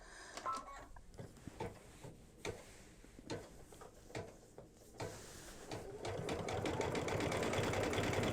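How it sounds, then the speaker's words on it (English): An embroidery sewing machine stitches a light brown thread outline on a quilted mug rug, tapping in quick irregular ticks before settling into a steady, faint, continuous whirring chatter. "the light brown thread is going to seal down the raw edges on the outer edge, and it's also going to stitch the fence post"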